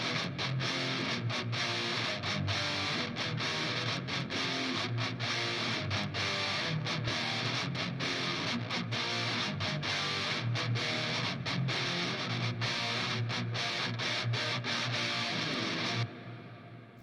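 Electric guitar played through a TS808 Tube Screamer and a noise gate: a dense, distorted chugging riff with sharp, gated stops between hits, cutting off abruptly near the end.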